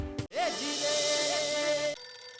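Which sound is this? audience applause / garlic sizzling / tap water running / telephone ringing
telephone ringing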